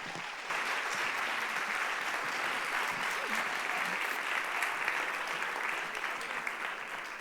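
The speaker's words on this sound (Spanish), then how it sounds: "Así que Itziar, un aplauso." A theatre audience at a science talk event applauds continuously for about seven seconds, a steady mass of claps from a sizeable crowd, with faint scattered voices beneath.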